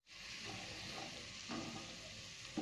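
Balushahi frying slowly in oil over a low gas flame, a soft, steady, even sizzle held close throughout, with no voices.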